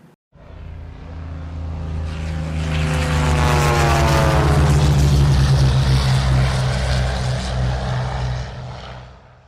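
Rolls-Royce Merlin engine of a racing P-51 Mustang at the Reno air races, pushed to twice its design horsepower, roaring loudly as the plane approaches and sweeps past, the sustained drone rising and then fading slightly.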